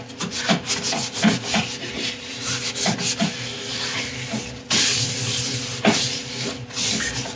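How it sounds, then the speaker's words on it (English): A resin woodturning piece is wiped down with isopropyl alcohol, giving a close, rhythmic rubbing and cloth-on-surface swishing with steady hissy friction and a few abrupt shifts in texture. "wipe off any residue with isopropyl alcohol"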